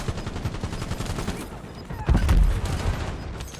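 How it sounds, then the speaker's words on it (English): Gunfire in Call of Duty Warzone: rapid bursts of automatic weapon fire, loud and close, followed by a heavier booming blast and continued shots. "Enemy fire over here"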